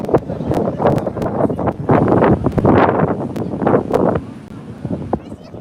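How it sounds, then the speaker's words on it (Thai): Strong wind gusts along a Danish coast near a moving boat, roaring broadband rush and microphone buffeting that swells and eases throughout, loud and close, with talk over it. "ลมแรงมากเลย"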